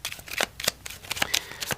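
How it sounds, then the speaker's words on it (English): A Smith-Waite tarot deck being shuffled up close, a quick series of crisp riffling card flutters in soft bursts, quiet and intimate. "I'm going to shuffle it pretty good."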